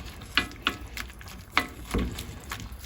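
Meat being stirred in a home cooking pot, with several distinct scraping, clattering strokes of a spoon against the pot over a soft sizzle and simmer, close and moderately quiet with no talking.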